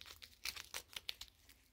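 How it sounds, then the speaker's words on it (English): Plastic wrapping being torn and crinkled off a framed photo package, a quiet series of irregular crackling rips and crumples close by, with no talking. "Still unwrapping it."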